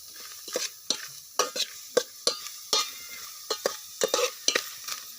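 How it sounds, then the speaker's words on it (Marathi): Onion fries in hot oil in a pot for a chicken dish, heard as soft, steady sizzling broken by repeated sharp scraping and stirring strokes at an uneven rhythm, close and fairly loud, with no talking. "सगळ्यात पहिल्यांदा टाकलाय आपण कांदा मस्त आपल्याला लाल करून घ्यायचा आहे"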